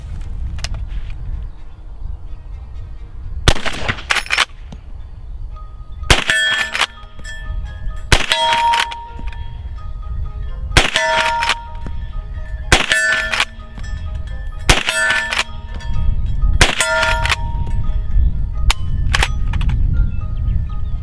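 Lever-action rifles, a Marlin 336 and a Winchester 94, firing outdoors: about eight loud sharp cracks spaced a couple of seconds apart, each with metallic clanging ring, over steady background rumble.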